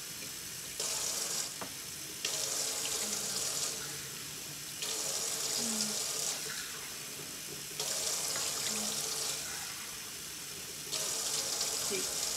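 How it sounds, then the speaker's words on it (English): Tap water runs in repeated bursts into a pot of shrimp shells for étouffée stock, several pours of a few seconds each separated by quiet pauses, moderately close. "I'm going to add in 2 quarts of water"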